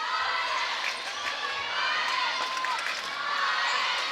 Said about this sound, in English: You can hear the crowd starting to get in, a bit of chanting going on.